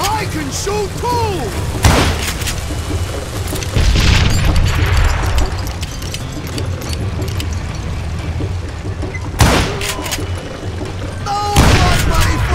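Gunfire in the Western shooter Call of Juarez: Gunslinger, with several loud booming shots and heavy impacts scattered among music and game noise, while a voice talks over the action.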